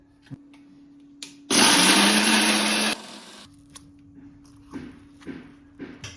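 A mixer grinder blitzes coconut, peanuts, garlic, two green chillies and coriander in one loud, steady burst lasting about a second and a half, then cuts off abruptly, leaving quiet kitchen clatter.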